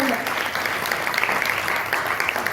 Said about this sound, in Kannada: ಜೋರಾಗಿ ಚಪ್ಪಾಳೆ ಬಂದಿದ್ದ ಎಲ್ಲರಿಂದ